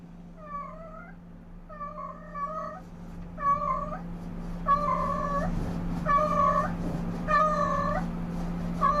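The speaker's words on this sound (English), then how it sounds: "Do you hear the cat?" A cat meows over and over indoors during an oil portrait painting session, the calls growing louder and more drawn out toward the end over a steady low hum.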